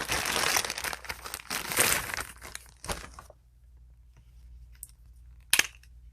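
A thin plastic bag crinkles and rustles around a Taurus 856 revolver being unboxed, loud and busy for about three seconds, then a brief handling rustle and a sharp crinkle after a quiet pause.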